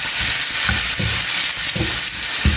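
Finely chopped garlic frying in about three tablespoons of oil in a pan, a steady close sizzle with soft irregular stirring scrapes and bumps, no voices.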